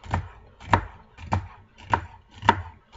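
A sharp chef's knife chops celery stalks on a diagonal, five crisp cuts landing about every half second, each a close thud of blade hitting the board.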